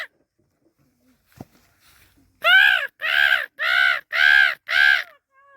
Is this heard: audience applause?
no